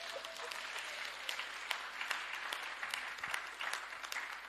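Audience at a women's conference applauds steadily with many hands clapping in a dense, even wash at moderate distance, with no talk over it.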